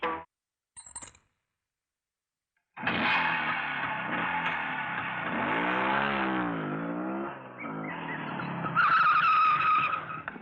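A fast Yamaha motorcycle in an old Hindi comedy film roars in loudly after near silence. The engine revs, sweeping up and down in pitch, with a squealing, skid-like edge toward the end.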